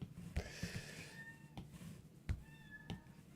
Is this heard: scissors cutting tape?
no